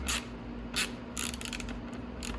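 A nut is tightened on the front bumper of a Venom 125cc Grizzly ATV, giving several quick ratcheting clicks in short bursts, close and fairly quiet, with no talk.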